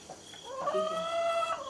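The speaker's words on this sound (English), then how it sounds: "as you can tell, the chickens love their corn" A chicken gives a short, drawn-out clucking call, nearby and fairly clear against a quiet background, while being fed corn.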